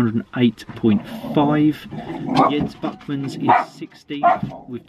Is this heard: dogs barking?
yes